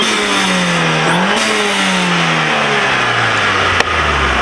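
A turbocharged Alfa Romeo car engine revs up and down at a Japfest car show at Silverstone, loud and close, its pitch climbing and falling in sweeping rising tones over a constant rumble.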